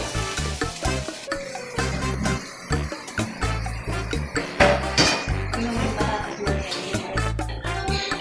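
Chop suey sizzles and crackles in a hot pan while utensils scrape and clink as it is stir-fried, with steady cooking noise throughout.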